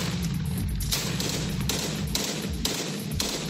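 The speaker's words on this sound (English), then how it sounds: "U.S.-backed fighters pounded the area Sunday with artillery fire and with occasional airstrikes shaking the ground." Artillery fire from fighting in Syria, recorded in the field, comes as a series of dull distant thuds and booms at irregular intervals over a constant noisy background.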